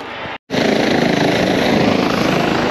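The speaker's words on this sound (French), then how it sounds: "On vient de se prendre un atterrissage d'un hélico du SAMU." Loud, close SAMU medical helicopter landing, rotor chop pounding rapidly and continuously after a brief cutout, the engine roaring under the beating blades.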